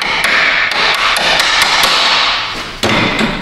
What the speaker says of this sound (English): Kind of smash that cotter pin over there.